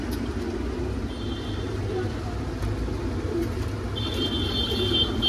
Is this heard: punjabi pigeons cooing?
yes